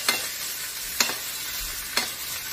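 Halibut basting in a hot pan, giving a steady soft sizzle marked by three evenly spaced sharp scraping strokes of the spoon, close and clear with no talk.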